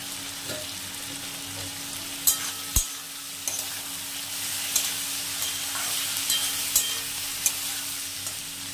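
Chopped cauliflower stalks and mixed winter vegetables fry in oil in a pan, a steady close sizzle with occasional scraping stirs and light clinks of the spoon, and no voices.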